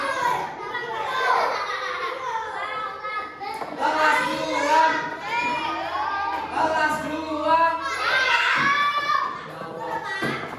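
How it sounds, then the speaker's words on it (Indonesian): Young second-grade pupils in a primary school maths class chatter and call out noisily together, a busy overlapping din of children's voices filling the room throughout, with a few clearer voices rising above the crowd. "Kalian masih teriak-teriak terus."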